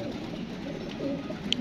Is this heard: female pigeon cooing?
yes